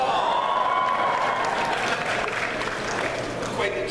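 A convention panel audience at Comic-Con applauds and cheers, a steady wash of clapping and crowd noise sustained throughout, with a voice audible over it.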